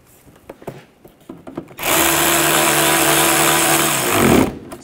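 After some light handling knocks, a power tool drives a bolt back in on a 2013-2019 Ford Escape rear bumper, whirring steadily and loudly at close range for about two and a half seconds before stopping.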